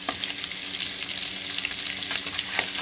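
Fish pieces frying in hot oil until browned, a steady dense sizzle with faint crackles and a few stirring scrapes, close and continuous with no voices.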